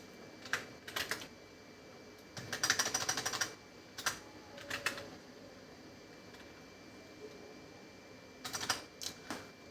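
Bursts of typing on a computer keyboard while entering CSS grid code, with quick clustered clicks separated by pauses, close and moderately quiet, with no talking.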